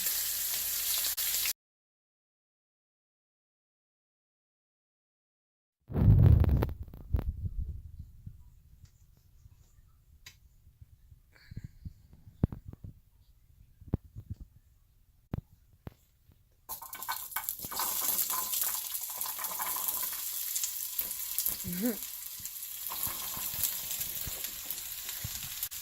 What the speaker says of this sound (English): searing off these short ribs